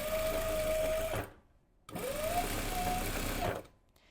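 A sewing machine stitches the back center seam of a blouse with a 2 cm allowance in two steady motor-driven runs, separated by a short pause, loud and close with no talking.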